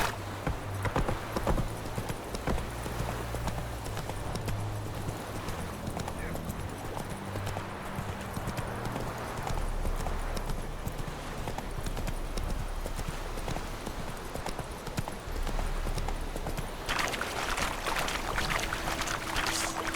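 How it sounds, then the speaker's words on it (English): Horse hooves clip-clop steadily in The Witcher 3 as a mount trots along, a rhythmic clatter over game ambience and music, with brief speech in the background. "Whoa there, Roach"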